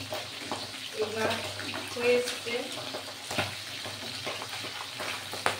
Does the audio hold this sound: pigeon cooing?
no